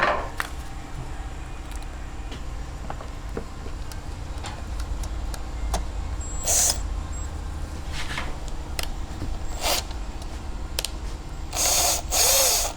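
Screws being driven into the spark arrestor of a Firman 3200W generator (model WH03242) in a shop, heard as a steady mechanical ratcheting and clicking with a few brief louder bursts, close and without talk.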